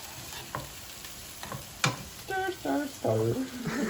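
Onions for kimchi fried rice sizzle in a pan, with a few sharp scrapes of stirring. Soft voices talk over the frying near the end.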